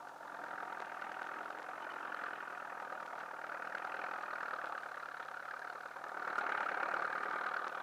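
A tractor engine runs steadily in a snowy winter field in 1965, a continuous mid-pitched drone that swells slightly louder toward the end, heard alone with no voices.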